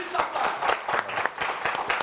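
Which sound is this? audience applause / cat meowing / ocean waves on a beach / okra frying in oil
audience applause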